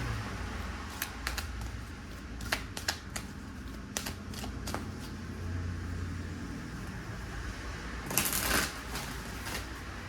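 A deck of oracle cards being shuffled close by, with quick riffling snaps and taps scattered over a low background rumble, ending in a brief dense flurry of card noise.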